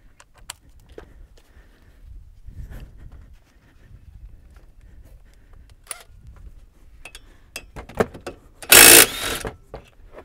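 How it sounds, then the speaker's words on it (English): Impact wrench loosening tight brake caliper bolts on a GM compact car such as a Chevrolet Cobalt, Pontiac G5 or Saturn, heard as one loud burst of hammering close by after quieter clicks and handling noise. "So I'm going to have to use an impact wrench on those."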